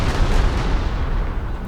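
Strategic bomber strike hitting an artillery piece in the Panzer Corps 2 war game: a dense, sustained rumbling blast of explosions and gunfire, loud and continuous for under two seconds, with no voices.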